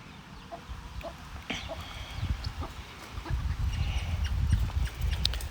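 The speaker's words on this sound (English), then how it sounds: "So Nuggy's now calling her babies" Backyard hen named Nuggy giving soft, repeated clucks to call her chicks near a coop, low and close, with rustling and scratching growing busier toward the end.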